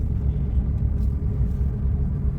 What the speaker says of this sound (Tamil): இப்போ நான் தேர்ட் கியர் போடுவேன்